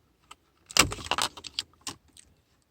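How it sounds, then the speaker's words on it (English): A replacement bulb pressed into a car's climate control panel on a Toyota Yaris: a few small, sharp plastic clicks and rattles close up, with one firmer snap, otherwise quiet. "Once you hear the click, you know it's in."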